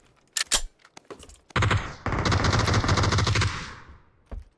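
Automatic G36 rifle fire in the game PUBG: a few scattered single shots, then a long sustained burst of rapid, loud fire lasting about two seconds, fading out, followed by quieter clicks.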